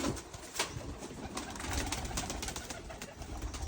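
Pigeons coo softly under a dense, steady wash of background noise, with the low murmuring calls hard to separate and no clear breaks.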